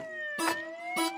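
Police car siren wailing in short repeated rising tones, moderately loud and heard alone for a brief moment.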